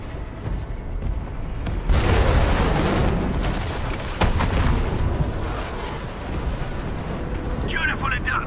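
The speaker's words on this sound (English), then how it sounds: "The UWST will fire at where you've marked." Artillery strike from the UWST in the video game Arknights: Endfield, a sustained rumbling barrage of booms and blasts that stays loud throughout, with a louder swell partway through and faint game effects near the end.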